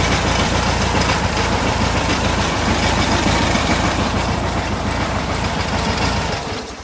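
An old Volkswagen Beetle (Fusca), revived after years parked, idles steadily with a dense, loud, close rumble that holds even throughout and fades slightly at the very end, with no talking.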